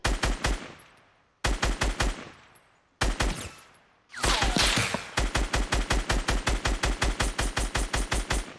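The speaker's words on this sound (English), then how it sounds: "This kid's sniping me over here." Rapid, rhythmic gunfire from Fortnite Battle Royale, including sniper fire, comes in loud repeated bursts separated by brief pauses, then becomes a steady run of evenly spaced shots with a noisy flare in the middle.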